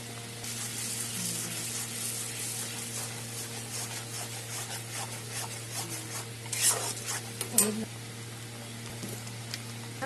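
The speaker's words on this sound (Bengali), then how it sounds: "সব কিছু এখন একসাথে কষাবো" Tomato paste with ground cumin, coriander and red chilli powder is stirred in oil, making soft, rasping scrapes and a faint sizzle over a constant low hum, with a few louder scrapes near the end.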